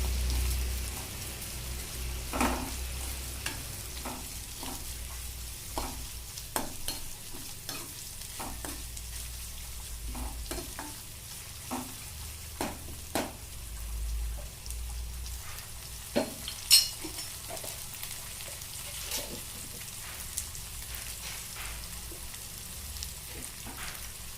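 Soft crackling and sizzling of curry leaves tempering in hot oil, with scattered pops and occasional stirring clicks, continuous and close, no voices.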